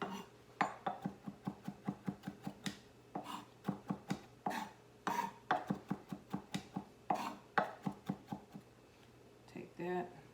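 A big kitchen knife minces food on a cutting board in quick, steady runs of close, sharp chops that pause briefly and then resume, with a voice talking in between.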